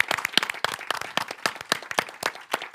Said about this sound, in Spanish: Un aplauso para Mónica Bardem.